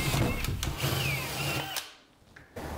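A power drill bores a hole with a 5/8-inch Forstner bit during bathroom cabinet work, making a close, moderately loud whirring grind with short spin-ups. The drill winds down and stops, then restarts briefly at the end.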